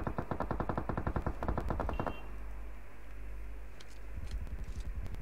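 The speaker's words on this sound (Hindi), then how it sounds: "वही साइड में फायरिंग हो रही है।" Rapid automatic rifle fire in PUBG Mobile: a long, fast, evenly spaced burst, a short lull of background noise, then another burst starting up, fairly close and loud.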